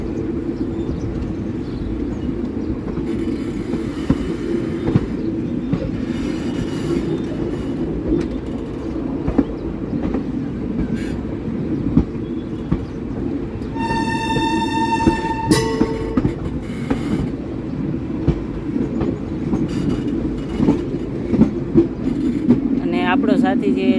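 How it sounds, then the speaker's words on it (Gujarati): A WAP5 electric locomotive hauls a train past a signal between Anjar and Gandhinagar, giving a steady rumbling rolling noise with wheel clatter throughout and a brief high whine or horn-like tone midway, with some talk over it. "હવે આપણી ટ્રેનનું એન્જિન ક્રોસ કરી ગયું છે આ સિગ્નલને"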